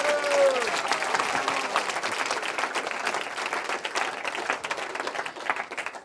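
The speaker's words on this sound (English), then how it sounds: "It's a big round of applause for Maharaj's very wonderful class." A seated audience at a spiritual seminar in Australia claps steadily after a lecture on the Brhad Bhagavatamrta, the dense applause sustained throughout with a brief voice at the very start.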